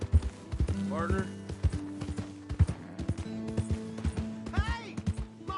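Horse hooves clip-clop in Red Dead Redemption 2, an uneven rhythmic trot close by, with a couple of whinnies and voices talking over it.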